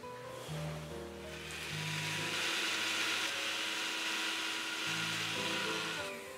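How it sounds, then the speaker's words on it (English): A kitchen grinder whirs as it blends cooled cooked spinach into a thick paste, running loud and steady for several seconds with a brief start and a pulse near the end, and no talking. "I'll put it in a grinder and grind it to a thick paste"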